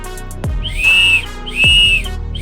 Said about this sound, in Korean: 메탈 재질로 된 호루라기는 소리도 나름 우렁차게 잘 납니다.